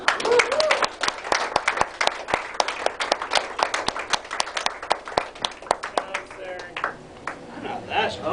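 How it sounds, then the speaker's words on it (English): Comedy show audience breaks into scattered clapping and applause while someone speaks over it from the stage, the claps uneven and moderately close. "One more round of applause."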